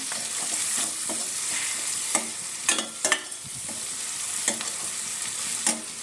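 Onions and soya granules sizzle steadily in oil in a pan for a curry while a spoon scrapes and stirs with sharp, irregular clacks, close and alone without talk.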